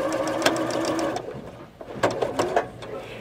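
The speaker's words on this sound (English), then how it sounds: "I'm sewing them both at the same time" A sewing machine stitching quilt block pieces runs with a steady, rapid mechanical whir, slows briefly, then resumes in short bursts, close and clear without talk.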